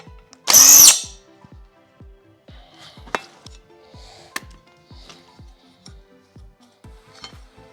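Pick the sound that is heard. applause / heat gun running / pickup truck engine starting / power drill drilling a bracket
power drill drilling a bracket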